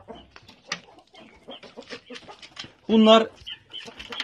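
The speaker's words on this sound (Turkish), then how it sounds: "Yani müsabaka horozları, müsabaka tavukları." Fighting-breed roosters and hens give one short, loud call amid clucks, while someone talks steadily throughout.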